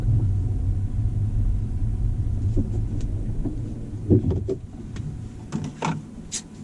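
Tesla car launching on a drag strip with Mickey Thompson rear tyres, wheels spinning: a steady low rumble with a few sharper bursts and squeals toward the end, fairly close and continuous.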